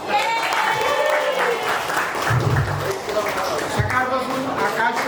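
An audience claps for the anchor at a company family day event, with steady applause running through the whole stretch under a loud voice speaking over it.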